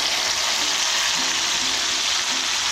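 Tomato, onion and garlic paste frying in hot oil for a breakfast curry, a dense steady sizzle close up with faint rhythmic scraping underneath.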